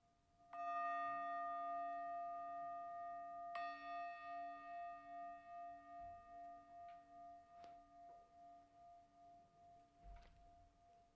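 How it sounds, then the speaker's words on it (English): A meditation bell rings three times, each strike sharp and followed by a long, clear, sustained ring that slowly fades into quiet; no voices are heard. "you're going to hear 3 bells, and this will indicate that the time of 3 minutes is beginning"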